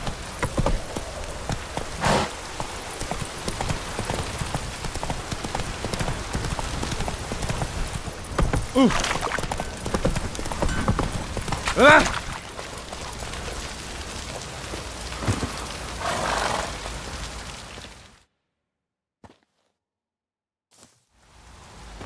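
Roach the horse trots through steady rain in The Witcher 3, hooves clopping continuously under the patter of falling drops until the sound cuts out near the end.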